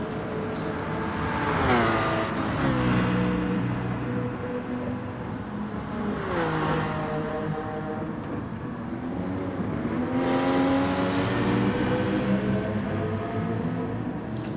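Race cars in a Gran Turismo video game, a Porsche out front, hum and rev continuously at steady loudness, with engine pitch repeatedly sweeping up through the gears and easing off between shifts.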